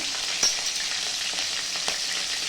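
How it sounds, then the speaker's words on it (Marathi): Green chillies frying in a hot pan, a dense, steady, loud sizzle with small crackles and occasional stirring sounds, close up and with no talking. "आता टाकू हिरवी मिरची। हिरवी मिरची टाकूया"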